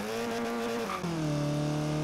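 A Porsche racing car engine in Forza Horizon 3 drones steadily at high revs, with a brief pitch drop at a gear change before settling into a sustained lower hum, close and continuous.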